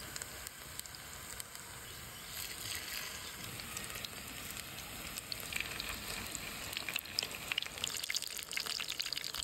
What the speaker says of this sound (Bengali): চুলা জ্বালিয়ে দিচ্ছি, তেল দিয়ে দিচ্ছি, মাছের মিশ্রণটা দিয়ে দেব।